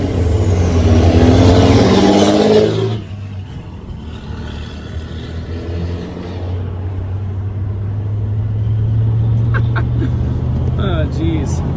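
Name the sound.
loud diesel truck engine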